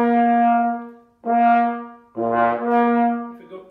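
Trombone played with narrowly focused lips, giving a thinner tone with missing overtones: three sustained notes in a row, close and clear with no talking.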